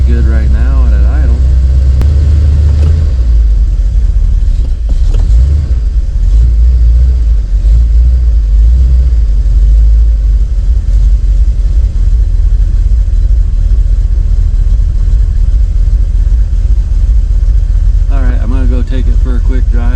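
1976 Ford E250 van engine idling, a loud, close, steady low rumble that carries on evenly, with a voice talking briefly at the start and end.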